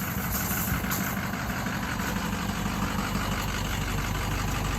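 A truck engine idles steadily while warming up on a winter day, a constant loud low rumble close by, with no talk over it.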